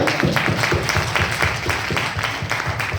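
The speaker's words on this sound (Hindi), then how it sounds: "एक बार में सर के लिए जबरदस्त तालियां" Audience at an Indian business event clapping for a guest, a close, loud burst of many hands with uneven rhythmic pulses running through the whole stretch.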